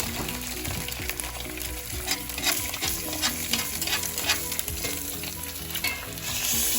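Eggs fry in a pan on a smoked pork steak breakfast cook, a loud steady sizzle with clatters of a utensil and pan running throughout, no talk.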